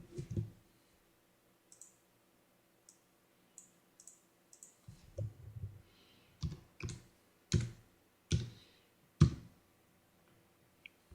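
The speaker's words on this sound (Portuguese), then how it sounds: "basta que eu continue digitando" Someone types on a computer keyboard while entering data, with scattered bursts of clicky keystrokes, some single and some in quick runs, close and fairly quiet with pauses between.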